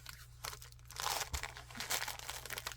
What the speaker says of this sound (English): Poke my awl through the paper.